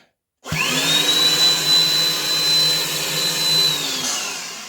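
Grosser GBW 250 leaf blower running in vacuum mode, starting abruptly after a short silence and holding a steady loud whine with a high tone for several seconds before spinning down.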